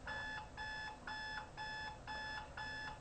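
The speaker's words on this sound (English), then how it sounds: "That was my alarm clock." An alarm clock rings in six evenly spaced electronic beeping bursts, bright and repetitive, fairly faint and heard alone.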